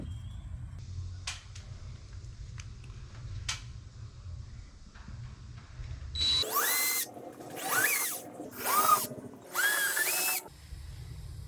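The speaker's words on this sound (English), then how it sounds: "I will take a drill bit, drill out these 4 holes for the anchors to go in" A power drill whirs in several short bursts, each rising and falling in pitch, drilling four holes for drywall anchors, following a quiet stretch of faint ticking and low hum.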